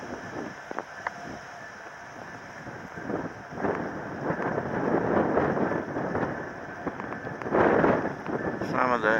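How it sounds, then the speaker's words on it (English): A strong, cold wind blows across a train depot in Alaska, roaring and buffeting the microphone in a steady low rush that swells into heavier gusts toward the end. "The wind's blowing really strong and it's pretty cold."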